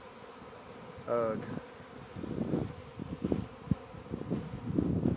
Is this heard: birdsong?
no